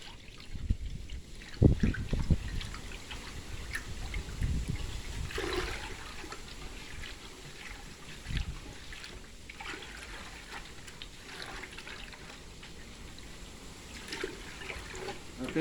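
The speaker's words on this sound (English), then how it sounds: "take my hands, switch it around, stir it around, like so, till it dissolves" Hands swish and stir molasses into water until it dissolves, producing sloshing, splashing and trickling sounds in uneven bursts, close by and moderately loud, with a quieter stretch of gentle swirling.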